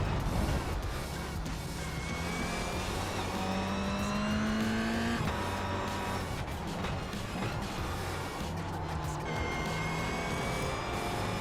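Ferrari GT3 race car engine in the iRacing sim, droning steadily and loud throughout with rising and falling revs through gear changes, mixed with other cars close by.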